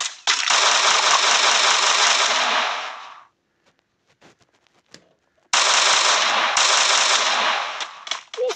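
Automatic weapon fire in the mobile battle royale game Free Fire, two long sustained bursts separated by a short gap with scattered single shots, loud and close.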